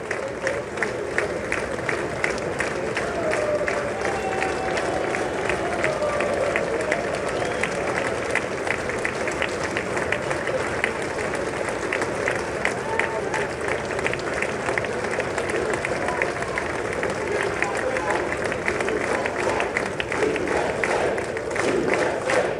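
A large audience keeps up steady, dense applause for Trump's speech, a continuous roar of many hands clapping with crowd noise and occasional cheers, unbroken from start to finish.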